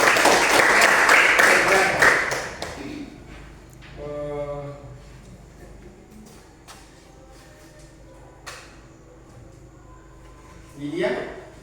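Children in a classroom applaud in a loud, brief burst of clapping that dies away after about three seconds, followed by quieter room noise and a teacher talking.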